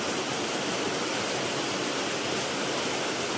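Rain pours down outdoors in a dense, steady roar of broadband hiss, loud and unbroken throughout, with no voices over it.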